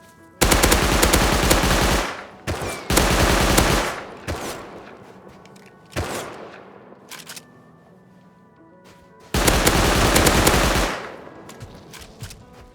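Loud bursts of automatic gunfire from a Rust player shooting in a snowy solo fight, in three long sustained volleys with short single shots between them, no talking.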